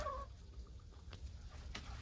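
An Ogolgye chicken, a silkie-type bird with feathered feet, gives one short cluck at the very start, then only soft rustling and faint scratching follow in the quiet coop.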